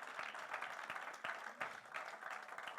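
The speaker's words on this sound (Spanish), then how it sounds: "Denle un aplauso al Señor." A church congregation claps for the Lord during a Spanish-language sermon, a moderate, somewhat distant round of applause with scattered sharper claps and faint voices mixed in.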